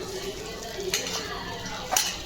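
Small tomatoes tipped into a pan of browning onions and whole spices like cloves and cardamom for chicken pulao, then stirred, with two sharp metal scrapes and clinks over a low background sizzle.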